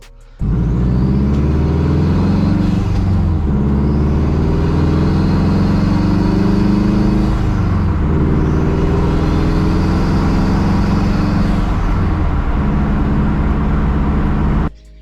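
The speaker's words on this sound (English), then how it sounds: "I'm gonna take the car out for a drive today" A car engine rumbles steadily as the vehicle drives, rising and falling in pitch through several gear changes, loud and close throughout.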